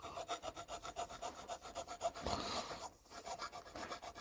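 A hand file rasps back and forth across a metal lip on a 1.8T engine part, removing a machining burr. The strokes are rhythmic, close and fairly quiet, with a short pause before filing resumes. No one speaks.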